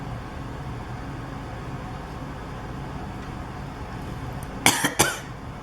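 Two or three quick, close coughs break out near the end after several seconds of quiet room hiss, sounding alone without speech.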